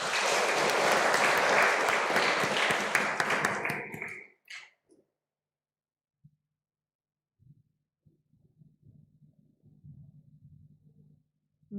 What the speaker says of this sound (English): we'll give them all a big clap as they go back